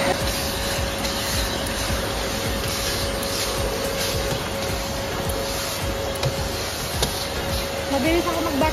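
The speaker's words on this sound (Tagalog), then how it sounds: "Mabilis ako mag-vacuum." A vacuum cleaner drones steadily and loudly while cleaning a truck, a constant whirring hiss with a faint hum, with voices talking over it.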